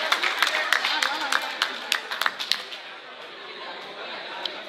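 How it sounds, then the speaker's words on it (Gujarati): Applause for an event organiser at a prize distribution ceremony in a science centre breaks out as a crowd's scattered, crisp claps that fade after a few seconds, with chatter beneath. "તો ફરી વાર એકવાર એમના માટે તાળીઓ થઈ જાય"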